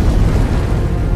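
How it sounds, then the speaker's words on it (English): A volcanic eruption explodes on an island, producing a loud, deep, sustained rumbling roar that fills the whole moment with dense low-end power. "eruptions and pyroclastic flows continue to devastate the island."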